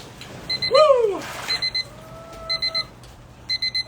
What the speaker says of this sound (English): Beeper, let's turn you off.